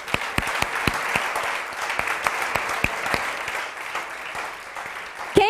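A church congregation claps together at the close of a conference worship session, the sharp individual claps standing out in an irregular rhythm over a soft wash of applause, with a brief sound at the very end.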